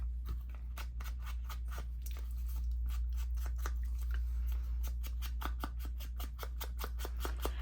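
Scissors trim paper off a cut-down folder, a quick series of crisp snips in a steady rhythm close to the mic over a low constant hum.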